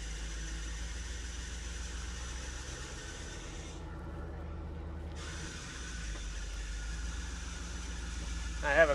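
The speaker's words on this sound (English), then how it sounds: "Roars to life. Great power steering pump racket." A 1987 Chevy C/K Custom Deluxe pickup truck engine runs steadily with a constant low rumble and a power steering pump whine, loud and close throughout, with a brief rise in level at the end.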